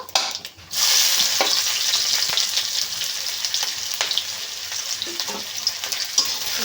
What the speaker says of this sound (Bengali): একটু বেশ ভালো করে পেঁয়াজটা লাল লাল করে ভেজে নেব